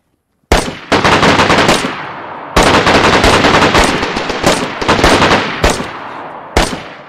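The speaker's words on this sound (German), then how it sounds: "Schießt auf mich wieder." Loud automatic gunfire in the DayZ video game: several sharp bursts, each starting abruptly and followed by rapid repeated shots, with brief pauses between volleys and no voices.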